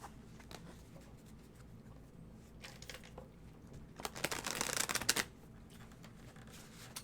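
A deck of tarot cards is shuffled close by, soft scattered riffles and taps building to a denser, louder burst of shuffling before settling back to quiet handling.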